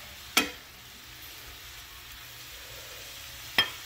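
Pork steak seasoned with salt and pepper simmers in a covered pan on a small stovetop burner, giving off a faint, steady hiss broken by two sharp metallic clinks.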